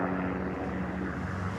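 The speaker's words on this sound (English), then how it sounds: "One thing I'm definitely not gonna miss about LA is the constant helicopters." A helicopter passes over Los Angeles, heard as a steady, moderately distant rotor and engine drone that holds evenly through a brief stretch with no voices.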